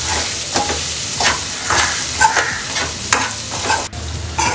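Okra sautéing with chili powder and coriander in a pan, a steady close sizzle broken by repeated scraping stirs, with no voices.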